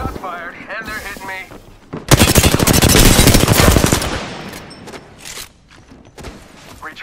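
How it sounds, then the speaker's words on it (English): Rapid automatic gunfire rattles loud and close in a video game match, a dense burst of about two seconds, with a voice speaking before and after it and fainter shots trailing off. "Shot fired, and they're hitting me."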